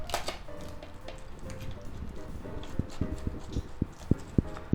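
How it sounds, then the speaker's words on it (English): An air fryer stuffed-crust low-carb tortilla cheese pizza is cut with a blade. Close, irregular crisp taps and crunches grow sharper and more frequent toward the end over a soft steady background. "We'll cut this way."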